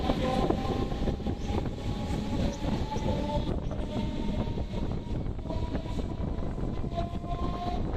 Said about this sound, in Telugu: సో మలక్పేట రైల్వే స్టేషన్ నుంచి అయితే డిపార్ట్ అవుతున్నాం ప్లాట్ఫామ్ నెంబర్ 2 నుంచి.